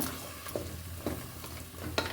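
Peas and potato sagu cooking in oil in a pan gives a steady soft sizzle, with three sharp spoon scrapes against the pan spaced through it.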